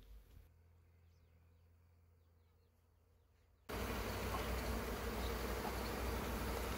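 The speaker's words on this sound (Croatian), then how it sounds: "Velik broj pčela polijeće i traži lokaciju na kojoj je matica." A large swarm of honeybees takes flight searching for their queen, a dense continuous buzzing that starts faint and then swells abruptly into a loud, close roar halfway through.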